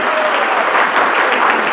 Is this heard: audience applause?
yes